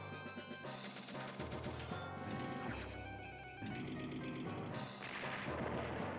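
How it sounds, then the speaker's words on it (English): Artillery attack from the Advance Wars strategy game: sharp, crunchy bursts of cannon fire and impact over a steady chiptune-style game soundtrack, fairly loud and continuous throughout with no talk. "Ooh, our artillery took a lot of damage out of that."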